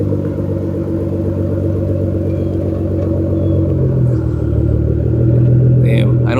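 A Nissan GT-R engine idling in a steady, loud, low rumble that continues evenly throughout, with a slight swell near the end and brief speech over it.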